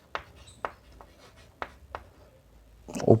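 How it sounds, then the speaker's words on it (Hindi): Marker strokes on a chart board as object locations are written up for a lens lesson, a few short scratchy squeaks spaced irregularly, then a louder rustle at the end. "तो ऑब्जेक्ट लोकेशन इधर लिखता हूँ मैं"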